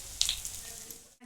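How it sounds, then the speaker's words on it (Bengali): Stuffed pointed gourd (parwal) fries in oil in a pan over a lowered gas flame. A brief, faint sizzle with a few soft crackles, then it cuts off. "গ্যাসের দমটা একটু কমিয়ে দেবো, দিয়ে একটু হালকা আছে ভেজে নেব।"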